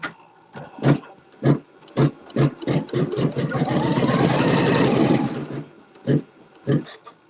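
A sewing machine runs in a short, steady burst, tacking down the small center square of a quilt block. It whirs under and between bits of close talking.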